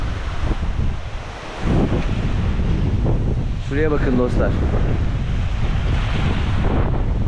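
Strong storm wind at about 60 km/h roars and buffets the microphone over crashing surf, with someone speaking briefly under the gusts.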